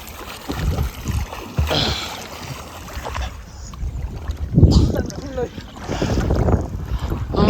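A boat moves across the water with splashing and rushing sounds, some wind buffeting, and voices talking nearby.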